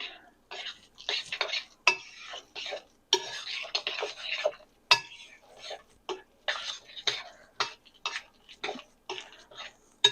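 Dry flour-and-oat mix for dog biscuits, with dried herbs, stirred in a mixing bowl, giving a run of close scraping and clinking strokes in short uneven bursts, with a voice talking now and then between them.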